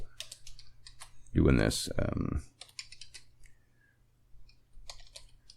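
Typing on a computer keyboard resting on a lap: quick bursts of plastic key clicks in uneven runs, close and crisp, broken up by short pauses and one brief spoken phrase.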